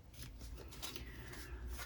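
Tarot cards drawn from a deck and laid down over other cards, a steady close papery rustle and sliding under a low background hum, without speech.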